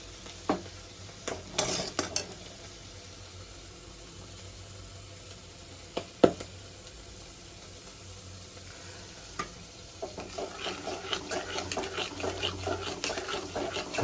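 Yogurt is stirred into spices in a pan for doi katla, with irregular scraping and knocking of a utensil over a low sizzle. Stirring becomes quicker and denser toward the end.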